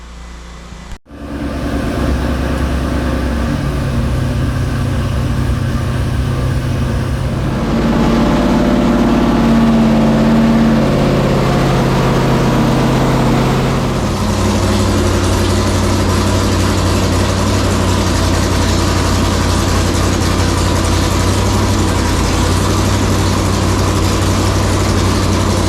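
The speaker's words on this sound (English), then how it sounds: "we're ready to fire it up. So we're gonna time it" Race truck engine on a dyno cranking and catching after being timed, then a loud, deep, steady idle rumbling close by for over twenty seconds with small shifts in pitch, no talk.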